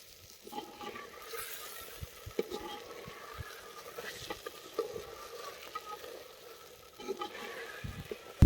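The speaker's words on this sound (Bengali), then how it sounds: "এখন আমরা মশলাগুলোকে হালকা করে ভেজে নেব" Spices with turmeric and salt fry lightly in a pan for handi chicken, giving a soft, steady sizzle with occasional stirring scrapes and small clicks, fairly quiet throughout with no voices.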